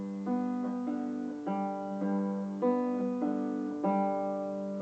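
A 4-string cigar box guitar tuned to open G is fingerpicked alone, close and clear, alternating bass and treble notes in a steady rhythm with ringing, sustained tones.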